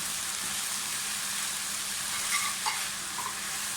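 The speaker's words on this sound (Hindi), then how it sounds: "थोड़ा सा फ्राई करें" Cabbage and spring onion greens stir-frying for chicken fried rice, a dense continuous hiss of sizzling oil, close and steady, with a couple of faint clinks from stirring.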